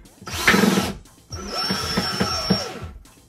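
A power screwdriver drives screws to join two wardrobe shelves, with two short bursts of whirring motor, the second carrying a high whine, close by amid light knocks and handling clatter.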